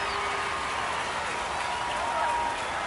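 A home baseball crowd at a San Antonio Missions game against the Amarillo Sod Poodles cheers loudly after a tying home run, a dense, steady roar of voices and clapping that fills the whole clip.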